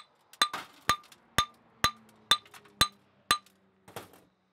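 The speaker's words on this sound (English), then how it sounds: "Breaking off the shells is definitely the most exciting part of this process" Ceramic shell mold being knocked off cast metal bolts: a series of about eight sharp, ringing hammer strikes at a steady pace roughly half a second apart, close and crisp, with a metallic clink and brief crumbling after some blows.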